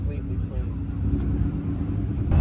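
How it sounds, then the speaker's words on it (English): A red carbon McLaren pulls in at a car meet, its engine a low steady rumble close by under nearby conversation. "Here's that red carbon McLaren that was pulling in."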